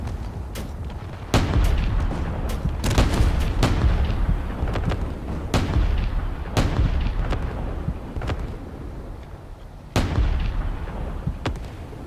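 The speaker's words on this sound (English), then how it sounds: "So it seems like there's more artillery about to fire." Artillery in the video game Space Engineers fires a rapid, irregular series of booming shots over a constant low rumble, some blasts sharper and louder than others, with no talk.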